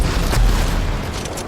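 A large explosion in the video game Rage 2, a loud booming blast with heavy low rumble that swells and slowly fades over about a second and a half, with no talk.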